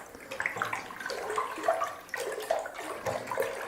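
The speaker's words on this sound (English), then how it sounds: "Good opportunity to give this a nice, good, vigorous stir." Vigorous stirring of freshly crushed Zinfandel grape must in a fermenting vessel, a close, continuous wet sloshing and swirling with rhythmic surges, fairly quiet and with no talking.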